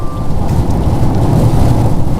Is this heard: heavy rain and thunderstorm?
yes